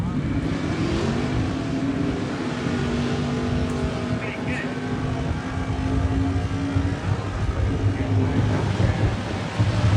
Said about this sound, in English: That Dodge pickup truck likes to use up all of his lane during the burnout.